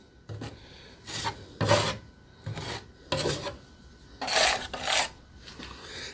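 A drywall knife spreads joint compound mud along the edges of a drywall patch in repeated rasping, scraping strokes, about six close, moderately loud passes with short pauses between them and no voices.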